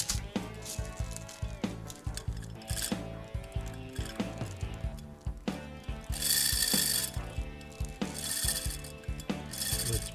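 A tight screw being loosened inside a Seth Thomas kitchen clock, with repeated close metallic ratcheting clicks and small mechanical rattles in quick, uneven succession, with no talk.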